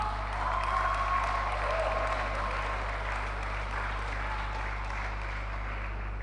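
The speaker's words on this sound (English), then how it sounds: "Can you please give them a round of applause?" Applause from an audience at an education forum, a steady, moderate patter of many hands clapping over a constant low hum, with no distinct voices.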